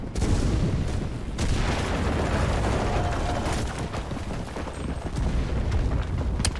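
Loud, rumbling explosions and bursts of gunfire in the WW2 video game Enlisted, in dense, overlapping succession with no clear gaps, like a chaotic battle.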